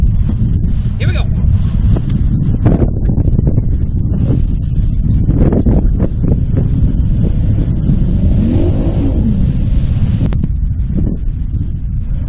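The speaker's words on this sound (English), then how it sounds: "Nasty southern wind today." Strong southern wind buffets a bass boat running across Lake Champlain, a loud continuous roar of wind against the microphone mixed with engine drone and hull noise throughout, with some voices partly audible underneath.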